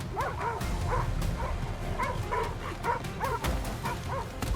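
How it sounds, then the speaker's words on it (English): A wild dog pack raises an alarm with a frenzy of high-pitched barks and yips, repeated in quick overlapping bursts over a steady rumbling outdoor background. "The alarm goes up, a frenzy of high-pitched barks"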